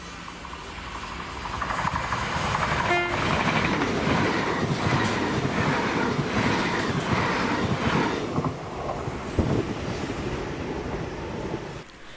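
A ScotRail class 385 electric train passes Greenfoot, a loud rushing rumble with rhythmic clickety-clack of wheels over rail joints, steady for most of the passage before fading near the end.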